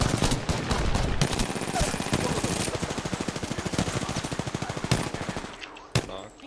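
Gunfire in the video game Apex Legends, a long rapid automatic burst of evenly spaced loud shots followed by a few scattered single cracks, with occasional voices in the mix.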